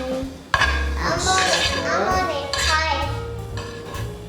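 A utensil scraping and clinking on a dish while Cajun shrimp is set on top of pasta, with close metallic scrapes running under a voice and adult talk throughout.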